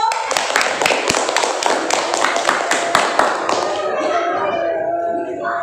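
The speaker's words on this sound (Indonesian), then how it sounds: "Semua tepuk tangan dulu." A classroom of students claps together in a dense, steady burst of hand claps at a school, loud and close, then tapering off into quieter room noise.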